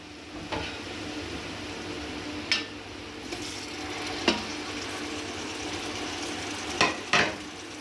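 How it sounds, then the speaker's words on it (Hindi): Mutton sizzling and frying with tomatoes and green chillies in a pot for mutton biryani pulao, a steady close hiss with a few sharp clinks of a spoon stirring, no voices. "टमाटर और मिर्चें शामिल कर 3 मिनट तक इसकी मैंने अच्छे से भुनाई की है।"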